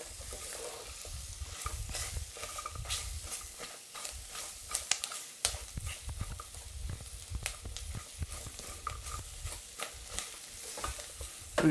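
Onions sizzling and frying in a pan for bunny chow, a steady close crackle with repeated scraping and stirring strokes throughout, no talking.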